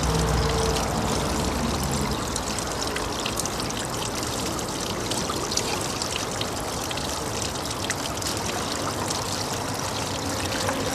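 Water and gold-bearing river material run over a spiral gold wheel concentrator, producing a steady, close trickling and splashing wash that continues evenly throughout.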